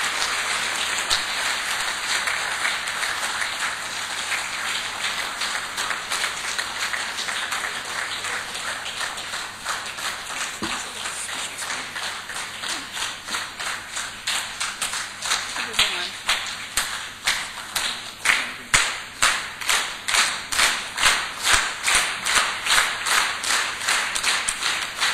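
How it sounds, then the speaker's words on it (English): Sustained crowd applause at a 2012 economic summit welcoming the Executive Mayor, a dense wash of clapping lasting the whole stretch and swelling with louder, more distinct claps toward the end. "Let's give her a big round of applause as she comes up."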